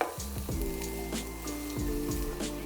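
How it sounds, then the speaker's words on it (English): Diced onion fries in very hot oil in a frying pan, giving a steady close sizzle with brief scraping stir sounds and a low background hum. "I'm gonna go in with 1 onion that we've diced, and I'm gonna fry that off for about 3 minutes"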